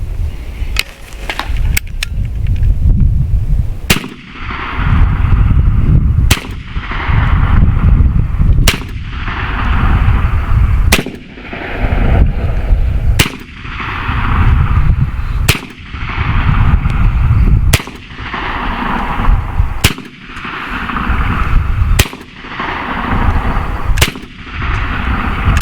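Shots from a BINTAC T9 9mm semi-automatic air pistol fired at an outdoor target ring out as loud, sharp cracks, roughly a dozen spaced a couple of seconds apart over steady background rumble, with no talking.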